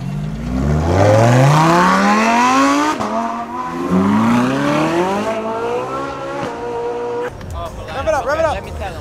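At a car meet, an engine is revved hard in rising sweeps and drops back between pulls, loud and close, while a crowd shouts and cheers over it.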